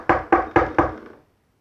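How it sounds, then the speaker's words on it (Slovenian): Four loud, evenly spaced knocks strike a wooden courtyard door in quick succession, close and crisp, then silence follows. "Ponoči pa je gospodarja prebudilo hrupno trkanje na dvoriščna vrata."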